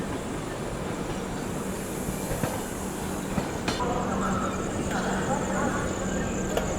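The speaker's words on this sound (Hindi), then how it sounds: "ये निकल गई भुवनेश्वर तेजस राजधानी दोस्तों" The Bhubaneswar Tejas Rajdhani Express thunders past close by in a steady, loud rumble of wheels and carriages, with sharp rail clicks scattered through the roar from start to finish.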